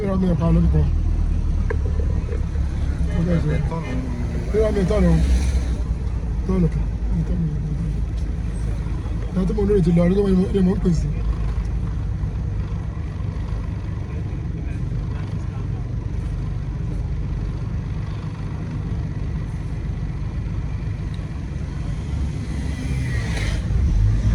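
A Toyota Carina E drives along with a steady low engine drone and road rumble, close and continuous, while people talk over it.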